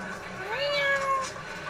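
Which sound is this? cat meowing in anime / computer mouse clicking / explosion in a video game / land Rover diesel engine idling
cat meowing in anime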